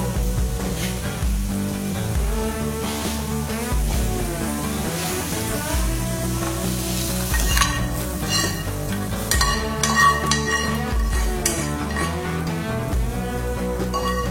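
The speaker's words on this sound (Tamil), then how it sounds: "இப்ப இந்த தாளிச்சதை எடுத்து மாவுல கொட்டிடலாம்" Hot oil tempering for tumbler idli sizzles as it is poured into the fermented batter and stirred in, a steady crackling fry continuing under loud background music.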